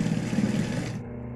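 A sewing machine runs a steady stitch on a small mini backpack keychain with a coin-purse pouch, with a continuous whirring hum that cuts off near the end.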